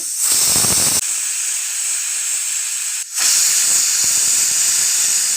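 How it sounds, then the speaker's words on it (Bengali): A pressure cooker on a gas stove, boiling yellow peas with a little mustard oil, lets out a loud, steady hissing whistle of steam. A brief drop comes partway through before the strong jet resumes. "প্রেশার কুকারের ঢাকনাটাকে বন্ধ করে গ্যাসে চাপিয়ে দেব আমি তিনটে সিটি মেরে নেব"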